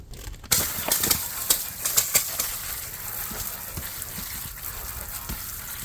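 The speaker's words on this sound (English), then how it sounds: "go ahead and spray some fresh water on the wheel." Steady hiss of fresh water spraying onto a car wheel, with a few sharper splashes and bursts early on, continuing evenly throughout.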